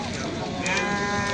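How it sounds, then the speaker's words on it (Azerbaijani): Sheep bleat close by at a sheep market in Beylagan, Azerbaijan, a wavering cry rising over the crowd noise while people talk nearby. "bax belə bir qoyunlar var əmidə"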